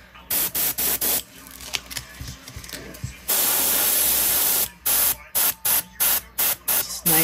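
Sharp bursts of airbrush spray hiss in quick pulses, then one long steady spray, followed by another run of short, even bursts; close and loud. Airbrushing a custom gill pattern onto scales.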